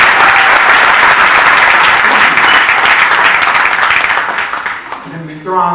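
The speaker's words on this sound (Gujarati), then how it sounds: "એના માટે એક વખત જોરદાર તાળીઓ જોઈએ." A large audience at a Gandhinagar farming event bursts into loud, dense applause that carries on for several seconds before tapering, giving way to a voice speaking into a microphone.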